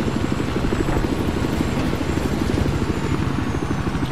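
A helicopter flying in the video game Battlefield 4, its rotor beating in a loud, steady rapid chop that stays close and constant throughout, with no talking.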